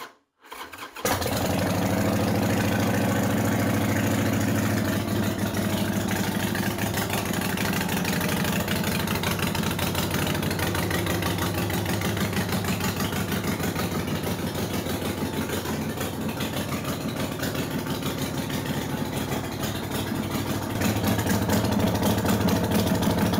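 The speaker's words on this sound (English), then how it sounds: "We'll fire it off one more time." A Harley chopper motorcycle with a freshly adjusted carburetor and choke starts with a quick crank, then settles into a loud, steady idle that holds close up for over twenty seconds with no talking.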